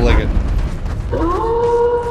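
In Dark Souls 3, within the Painted World, a dog gives a loud bark, then a drawn-out rising howl rings out, with another voice and game noise underneath.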